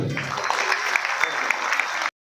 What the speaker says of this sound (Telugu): గట్టిగా చప్పట్లు